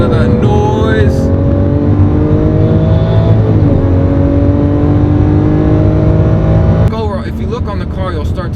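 A tuned 780 hp Lamborghini Aventador Novitec revs loudly up close with a rising, whining engine tone that climbs over several seconds. The tone cuts off sharply near the end, leaving a lower rumble under faint talking.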